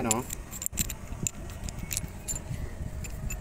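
A metal key jingles and clinks against metal during installation of a maxi brake chamber on a Daewoo boom truck, with a brief rattle, then scattered light taps under someone talking.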